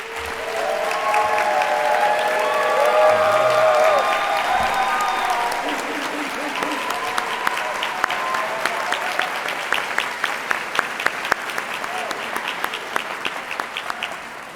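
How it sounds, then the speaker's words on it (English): Audience applause at a 2023-24 college graduation convocation ceremony, a long sustained round of many hands clapping in a large hall, steady and full, with a voice speaking over it near the start. "could I ask everyone to give them a warm round of applause?"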